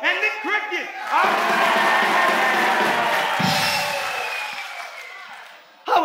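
A concert audience cheering, screaming and whooping for the performers: a loud, sustained crowd roar with high excited voices that fades slightly before ending abruptly.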